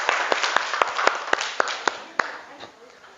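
A classroom of students claps together for a classmate, a run of sharp, evenly spaced hand claps over a soft room hiss, fading toward the end.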